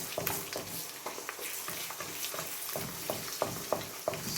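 Eggs or rice being stirred and scrambled in a pan on an electric cooker, a continuous soft sizzle with light scraping and tapping of a utensil at a steady, busy rhythm.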